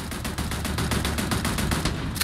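Rapid, sustained automatic fire from a turret in the video game Starfield, loud and close, a steady stream of shots with no pause and no talking.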